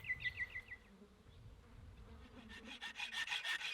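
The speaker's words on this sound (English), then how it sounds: "I'll get my hacksaw out and cut them down to correct size" Hacksaw cutting a high tensile steel bolt, quick rasping strokes starting up and then a steady run of rhythmic back-and-forth cuts, close and fairly quiet.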